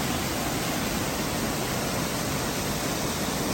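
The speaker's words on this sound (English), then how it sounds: "This little 12-foot waterfall doesn't have a name, but it's just before Talai Falls and is a great viewpoint" A small 12-foot waterfall on a jungle hike in the Philippines, heard as a steady, full rushing roar of falling water close by, with no other sounds.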